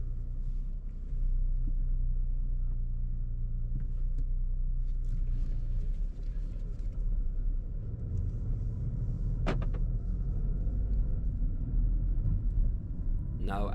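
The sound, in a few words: Audi A1 Sportback engine starting with key and idling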